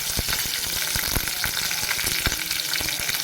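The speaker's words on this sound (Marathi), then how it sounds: "आता हा कांदा लाल होईपर्यंत आपण चांगला भाजून घ्यायचा आहे" Chopped onion fries in a pan until browned for a Sunday dinner, with a loud continuous sizzle and frequent sharp scrapes and taps of a stirring spoon, close up and without any speech.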